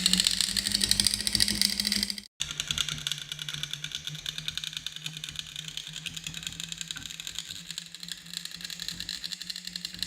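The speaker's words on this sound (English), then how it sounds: "It's a 3D metal welding printer." A 3D metal printer built around an ordinary MIG welder, depositing metal layer by layer: a steady buzzing, crackling arc with a low electrical hum, briefly cut off after about two seconds and then resuming, close and constant with no talk.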